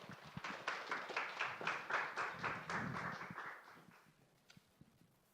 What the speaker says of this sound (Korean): 우리 박수로 맞이할까요?